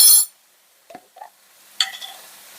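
Minced garlic from a jar hits a pan of nearly cooked sausage with a brief burst of sizzle, followed by a few soft scraping stirs and a second short flare of frying, close and otherwise quiet.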